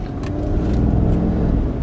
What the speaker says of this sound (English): just right away, just in a city mode, on a normal, not even the plus options, the truck is up and going.